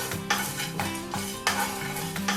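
Whole garam masala spices being stirred in a pan at home after the flame is turned off, giving close scraping and rustling strokes in a steady rhythm with faint sizzling underneath.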